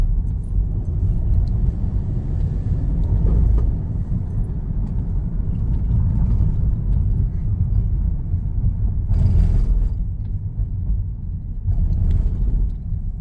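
A Mercedes-Benz W204 with a 7-speed gearbox accelerating hard on a busy road, its steady low engine rumble and road noise droning continuously from inside the car.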